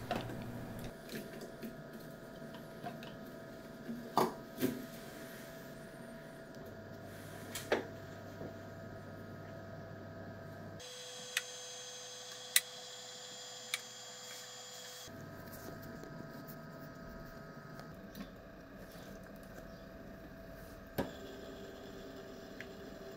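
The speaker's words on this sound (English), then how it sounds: "Let's now get the movement parts into the cleaning machine." A watch movement cleaning machine runs steadily with a low mechanical hum and whir, shifting pitch as its cycle changes, with occasional faint ticks and clicks.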